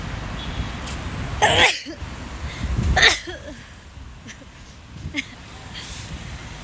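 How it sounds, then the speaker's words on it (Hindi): A woman sneezes twice while out walking, two sharp bursts a second or so apart, loud and close, with quieter background noise in between. "छींके आ रही है।"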